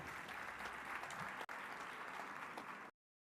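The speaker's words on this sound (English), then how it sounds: "Another round of applause to your kind selves." A graduation audience applauds steadily, a dense wash of many hands clapping, breaking briefly before continuing, then stopping abruptly.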